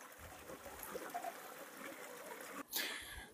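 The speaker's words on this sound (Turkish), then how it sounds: "Pırıl pırıl sular göletimize akıyor" Clear water trickles and flows steadily beneath a stone bridge into a pond at a Cappadocia rock church site. The stream is close, with a brief louder gush near the end.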